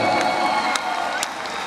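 Audience at a Red Cross 63rd anniversary event giving a short burst of applause and cheering, a dense crowd wash heard at moderate distance with a few louder claps standing out.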